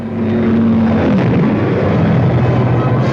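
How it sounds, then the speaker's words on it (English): World War II fighter escort aircraft take off with a loud, continuous propeller engine roar that fills the scene, and the pitch shifts slightly as the planes climb away. "their fighter escort followed them into the air"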